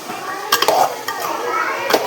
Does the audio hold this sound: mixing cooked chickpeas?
yes